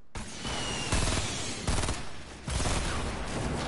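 Loud, rapid automatic gunfire from Fortnite, coming in several sustained bursts separated by brief gaps, close and harsh, with no talk over it.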